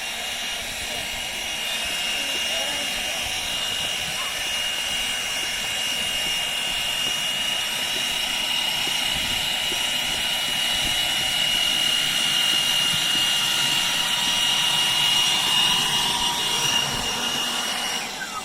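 Cordless Milwaukee and DeWalt leaf blowers run side by side at full throttle in a race, a steady, loud, continuous high-pitched whine and rushing air lasting throughout without a break.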